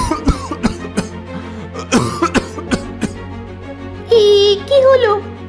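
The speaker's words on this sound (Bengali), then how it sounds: "কি হলো? আপনি কাশছেন কেন?" An old beggar in a Bengali cartoon coughs in a series of loud, harsh bursts and throat clearing, then groans in a strained, wavering voice near the end.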